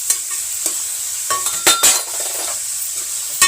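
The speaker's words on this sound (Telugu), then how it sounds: "ఇగో ఇలా ఆయిల్ పైకి తేలే వరకు వేపుకోవాలి చికెన్" Chicken frying in oil in a pan, with a steady close sizzle broken by several sharp clinks and scrapes of a utensil stirring against the pan.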